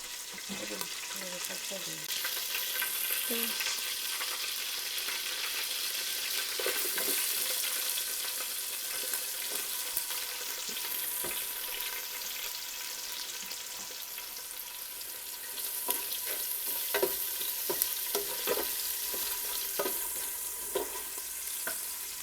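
Onions fry in oil in a cooking pot for beef nihari, making a soft, continuous hiss broken by scattered scraping and clinking stirs throughout.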